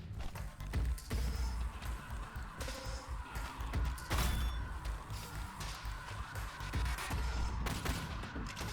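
Busy arena-shooter combat from the game Incision, with dense layered weapon fire, clanking and mechanical creaks running continuously under a constant thick wash of noise, and no clear pauses.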